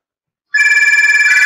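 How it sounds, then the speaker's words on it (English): A telephone suddenly starts ringing after a moment of silence, a loud, close, steady electronic trill with rapid pulsing. "And our phone's ringing."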